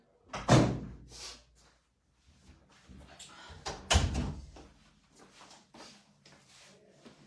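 A door in a home is handled twice, each time with a sharp bump or thunk followed by softer rattling and shuffling, close by, and a voice speaks quietly in between.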